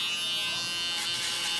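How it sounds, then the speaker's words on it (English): A Wahl electric barber shaver buzzes continuously up close, a bright steady hum that swells slightly partway through, with no one talking. "now I'm going with my shaver"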